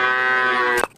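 A single long, loud cow moo as a sound effect, steady and droning before it cuts off sharply.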